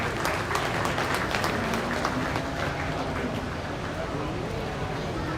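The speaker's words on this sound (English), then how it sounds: "So let's give him a nice round of applause." Audience applause in an arena at a beef cattle show after a 4-H bull calf entry, a steady wash of clapping from a crowd, with a voice over the PA heard above it.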